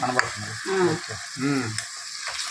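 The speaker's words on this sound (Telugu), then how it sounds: "ఉల్లిపాయలు వేసేస్తాను ఉల్లిపాయలు కరివేపాకు రెండు కలిపేస్తాయి" Onions, curry leaves and green chilies frying in hot oil for a tomato rasam, a bright sizzle with a few crackles under two bursts of tonal pan noise, no speech.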